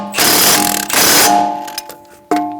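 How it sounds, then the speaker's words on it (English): An impact gun snugs the nuts on the steering knuckle bolts of a 2007-2011 Toyota Camry. Two loud, close rattling bursts of about half a second each are followed by quieter clicks and one last sharp burst. "use a socket and a gun to snug down the nuts"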